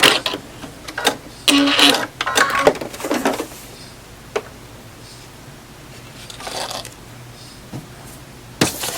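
A sewing machine stitches a paper-piecing seam on a quilt block, giving short bursts of whirring stitching separated by pauses and light handling noises, close and fairly loud.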